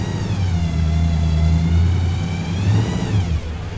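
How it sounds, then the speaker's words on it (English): Supercharged V8 tuner car at an outdoor car show revs hard and close, a loud deep growl layered with a high blower whine that holds steady, swells, then drops off. "What a combo sound, eh? V8 grill and the supercharger."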